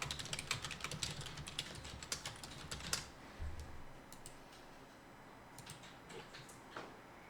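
Someone types a short message on a computer keyboard, a quick, uneven run of close key clicks that thins into scattered taps after a few seconds, with no voices.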